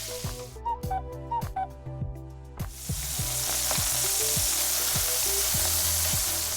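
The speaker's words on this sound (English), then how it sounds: "Put about half tablespoon of neutral oil and we start cooking the chicken." Chicken pieces hit half a tablespoon of neutral oil in a hot pan and break into a loud, continuous sizzle midway through, after a stretch of tonal, musical sounds with a few sharp knocks.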